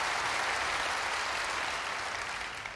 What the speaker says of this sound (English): Obligatory applause after every sentence, really.